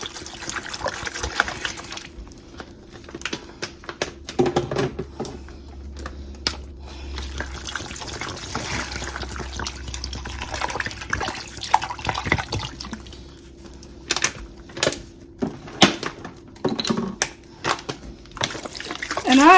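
Tap water runs and splashes into a pot for homemade chicken broth, a steady, fairly quiet flow with clinks and drips in a kitchen, heard alone without speech.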